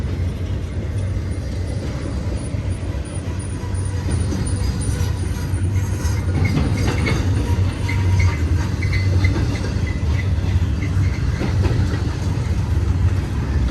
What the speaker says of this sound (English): Beautiful train with all these blue Amazons on top, JBs on bottom, sprinkling of Schneiders in there.